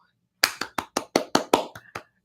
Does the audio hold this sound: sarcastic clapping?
yes